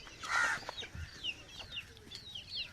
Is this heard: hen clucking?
yes